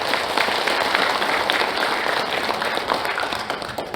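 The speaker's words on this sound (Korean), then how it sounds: "힘을 실어서 박수 한번 보내주십시오." Sustained applause from an audience at a founding convention of a bereaved families' association, many hands clapping steadily and densely for the full stretch, fairly loud and unbroken.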